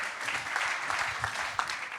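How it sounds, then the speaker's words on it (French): Audience applause at an awards ceremony, a steady crowd of clapping hands sustained throughout at moderate level with a few sharper individual claps. "On peut encore les applaudir, effectivement"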